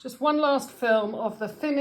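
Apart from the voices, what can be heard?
None of the usual background noises is heard.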